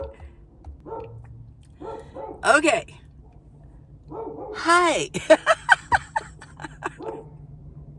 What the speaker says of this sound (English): There's a dog barking over here.